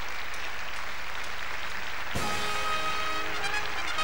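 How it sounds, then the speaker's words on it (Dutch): A carnival crowd applauds a band on stage at a Dutch Vastelaovend event, dense continuous clapping that swells midway as music starts under it. "Geef ze nog een keer een daverend applaus, jongens."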